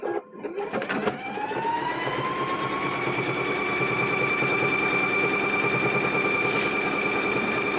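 A home sewing machine named Husky stitches fabric for a door stop, starting after a few clicks and running in one steady, fast, even whir close by with a rising motor tone and no talk.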